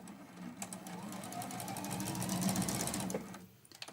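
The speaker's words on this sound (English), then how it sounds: "now I'm just sewing that 1/4 inch seam allowance all the way around" A sewing machine runs a continuous quarter-inch seam allowance, a quiet close whirring hum with fast, even needle ticking that rises slightly before easing off at the end.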